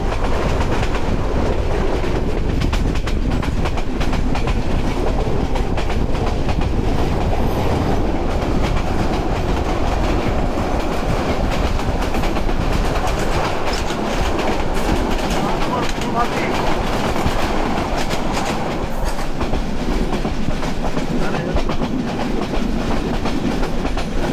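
Mohanagar Express train running on a double line through hilly country, with steady loud rumble and rhythmic wheel clatter throughout, a brief crossing moment amid continuous rolling noise.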